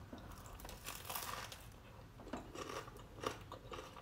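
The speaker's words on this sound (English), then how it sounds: "Let's have a bite into this bread first." Crispy bread served with pumpkin and pesto lasagna is bitten into, giving faint crunching and chewing crackles close to the mouth, with no talking.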